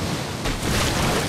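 The Tsunami Boost wave move in Inazuma Eleven Go Strikers 2013 crashes as a loud, continuous surging roar of rushing water and wind, swelling slightly midway.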